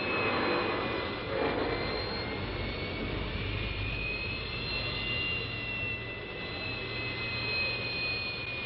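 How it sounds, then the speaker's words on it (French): Mirage III jet taking off from runway 10 and climbing, a steady, loud turbine roar with a whining high tone that shifts slightly as the aircraft gains speed and altitude. "On voit ici l'avion qui décolle de la piste 10 et qui prend de la vitesse et qui monte."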